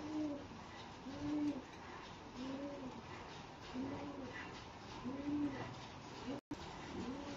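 Pigeons coo in a repeated soft rhythmic pattern, several low rolling calls at steady intervals against faint background noise, fairly close but quiet.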